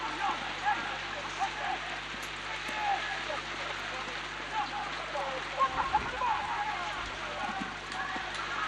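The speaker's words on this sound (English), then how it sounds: "So the sun gone and the rain getting heavier" Heavy rain falls at a football match, a dense, steady hiss of drops on surfaces with scattered louder patters, filling the whole stretch at moderate volume.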